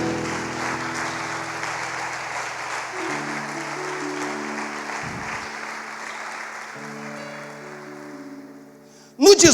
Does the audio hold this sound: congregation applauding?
yes